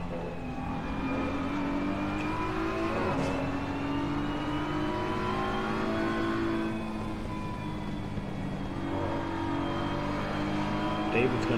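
Race cars in a sim racing game at Barcelona, several engines droning steadily with pitch rising and falling as cars jostle for position, under continuous race commentary.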